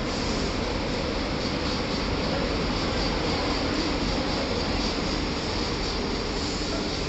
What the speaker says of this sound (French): Ça c'est un bruit de moteur asynchrone.